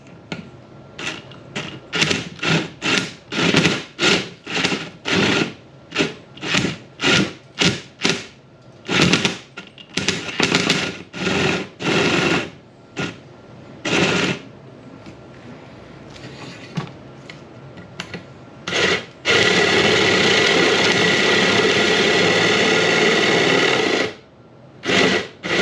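A power drill bores screw holes into the ceiling framing of a ProMaster van, whirring in many short rapid bursts with brief pauses, then one longer sustained run near the end, loud and close.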